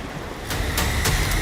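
Strong current of water rushes near a wobbly crossing on the Kinnaur Kailash trek, a loud steady roar with windy buffeting and a few surging swells.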